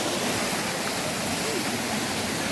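Kumbakarai waterfall's rushing water roars as a dense, steady broadband wash, loud and close, with no break across the short stretch.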